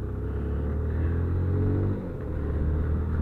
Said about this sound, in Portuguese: Muito carro, muita moto ainda.